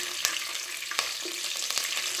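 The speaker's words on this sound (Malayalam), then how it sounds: "ഇനി വേപ്പിലയും വെളുത്തുള്ളിയും കൂടിയിട്ടൊന്ന് മൂപ്പിച്ചെടുക്കാം" Curry leaves and garlic fry in hot oil while mixture snacks are being made at home, giving a steady close crackling sizzle with a few sharper pops and stirring clicks throughout.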